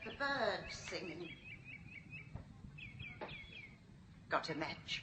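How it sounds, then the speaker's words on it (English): Songbirds chirp and whistle through an open window on an old radio drama, with short bright calls over a soft background hiss and voices talking around them. "I heard the birds singing."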